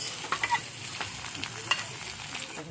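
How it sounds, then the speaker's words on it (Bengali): Prawns and onion fry in a pan with a steady sizzle, broken by a few scraping clicks of stirring, close and alone. "চিংড়ি মাছ আর পেঁয়াজটা ভাজা হয়ে গেছে।"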